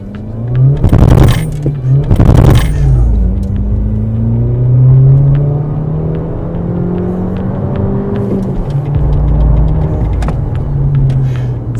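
A Skoda Octavia 1.8 with a new aftermarket exhaust: two sharp revs near the start, then a steady, loud, deep idle rumble with shifting tones and a slight swell toward the end.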